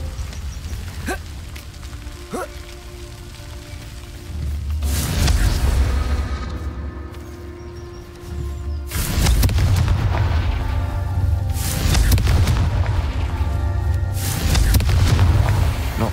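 A fiery Confringo spell blast from the Hogwarts Legacy video game, heard as a few booming explosive bursts with rumbling tails over a low ambient background, with no talk.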